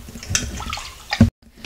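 Water is poured into soaked rice and urad dal in a grinder, a short close splashing pour that builds and then cuts off abruptly, followed by faint clinks.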